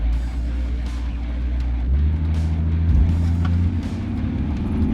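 A car's engine revs and pulls steadily during a 0-100 km/h acceleration launch with a worked-on gearbox and engine, the low droning engine note rising and shifting midway, loud and close with no speech.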